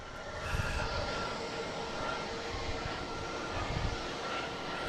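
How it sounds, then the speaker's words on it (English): American Airlines flight 108 jet departing Boston Logan for London Heathrow, a faint, distant, steady engine roar with low rumbling pulses and no talk. "We have American here, flight 108, heading to London Heathrow."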